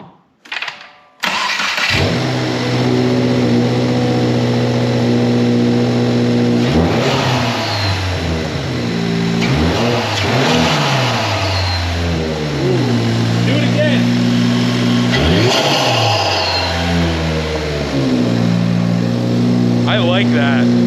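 A Subaru WRX with a Perrin cold air intake and aftermarket exhaust cranks and catches, then idles and is revved several times, each rev rising and falling sharply, loud and close, with voices in the background.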